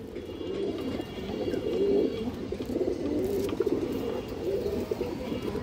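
Pigeons coo in repeated low, rolling calls close by, a steady cluster of murmuring coos over faint background rustle, with nobody talking.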